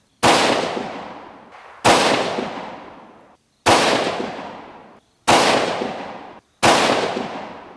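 A 6mm Creedmoor Howa 1500 rifle firing 108-grain ELD Match rounds at a target range: five loud, sharp shots spaced roughly 1.5 seconds apart, each with a crisp crack and a trailing rumble that decays before the next.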